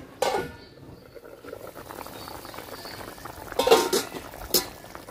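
Hilsa fish pani khola curry simmers in a covered pot, a soft steady bubbling with faint clinks of a lid and utensils breaking through now and then.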